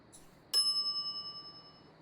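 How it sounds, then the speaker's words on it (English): A single service bell in The Secret of Monkey Island rings once, a bright metallic ding that hangs and slowly decays over about a second and a half, alone in near silence. "Ring bell for service."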